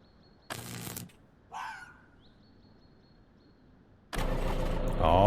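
A tractor engine in the video game Vein starts after being hotwired: a few brief mechanical bursts and cranking sounds, then the engine catches and runs with a loud, sustained roar.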